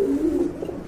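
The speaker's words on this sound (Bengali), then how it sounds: "হ্যাঁ বুট ঠোঁটের এক জোড়া ডাউকা কবুতর" A pair of Dauka pigeons gives a short, close, low coo lasting about a second, no voices.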